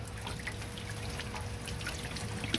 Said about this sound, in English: I'm just gonna give this a little squirt.